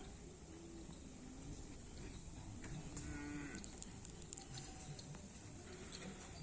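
Cattle at bull racing practice at a training ground, heard faintly at a distance, with low moos and soft patter over a steady outdoor background, plus occasional bird calls and no speech.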